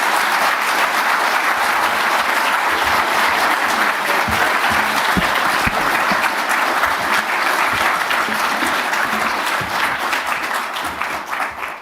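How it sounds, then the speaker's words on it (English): Warm, sustained applause from a large forum audience greets President Ferdinand Marcos at the CSIS ASEAN Leadership Forum, a thick continuous wash of clapping that stays loud throughout and begins to thin near the end. "So with your very warm applause, would you please welcome to the stage President Ferdinand Marcos."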